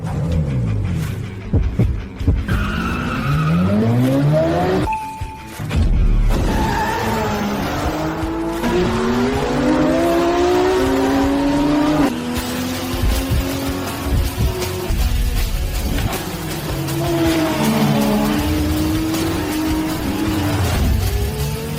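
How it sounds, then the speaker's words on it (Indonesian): Race cars overtake on a track with loud, sustained engine roars that rise and fall in pitch as they rev and accelerate, and tires squeal at times, all layered over dramatic music. "Berhasil menyalip, Qin Fang menyalip."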